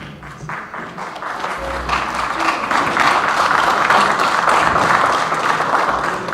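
Audience applauding at an NYPD Muslim Officers Society Hujaj welcome event, sustained clapping that swells and holds steady for several seconds.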